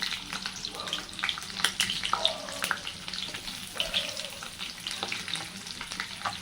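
Garlic, ginger and onion fry in a pan with spices for chicken biryani, giving a soft, steady sizzle with occasional scraping stirs, faint and close.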